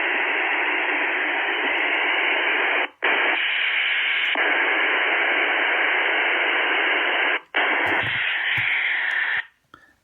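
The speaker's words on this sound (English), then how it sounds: "That's what the encryption cipher sounds like. Sounds very similar to white noise." A Motorola XTS radio, a USMC variant of the XTS2500, plays a DES-XL encrypted transmission in analog mode: loud, steady white-noise-like hiss filling the clip, broken by two brief dropouts and ending in a short tail of silence.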